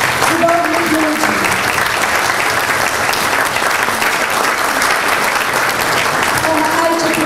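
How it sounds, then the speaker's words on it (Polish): A theatre audience applauds young actors at a youth theatre showcase, dense sustained clapping filling the hall steadily from start to finish, loud and close, with faint voices underneath. "Także jeszcze raz ogromne brawa dla"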